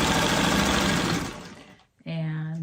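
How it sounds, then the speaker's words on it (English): A sewing machine stitches back over the seams of a freeform quilt block, running in one steady burst that fades out, with a brief pause before a different tonal sound starts. "I'm gonna just sew over these again"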